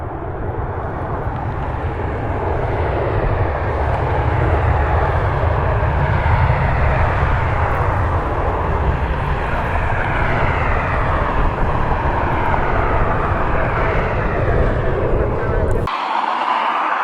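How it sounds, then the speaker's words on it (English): A business jet departs from an airport runway, a loud, steady engine roar that swells and holds for about sixteen seconds before cutting off abruptly. "Got a business jet departing on the other runway."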